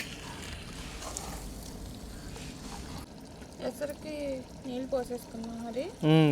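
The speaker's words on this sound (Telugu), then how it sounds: "పావని ప్రో కాబట్టి బాటిల్తో ఒక అంచనా అనమాట బియ్యాన్ని చూసి ఎంత వాటర్ వేయాలని తెలిసిపోద్ది" Water pours and trickles from a bottle into a pot of rice in short bursts, with background noise and a voice speaking briefly near the end.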